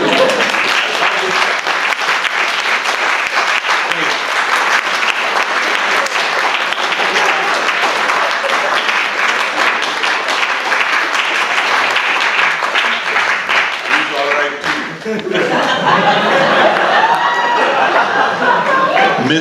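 An audience applauds after a talk on science and faith, and dense, sustained clapping fills the hall with brief cheers and crowd murmur near the end.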